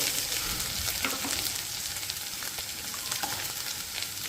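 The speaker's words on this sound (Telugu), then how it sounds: "కొంచెం ఫ్రై అయింది కదా దీనిలో ఇప్పుడు నాలుగు వెల్లుల్లి రెబ్బలు వేసుకుందాం" Garlic cloves fry with ivy gourd in a pan, a continuous crackling sizzle with intermittent stirring scrapes, close and fairly quiet, no talk.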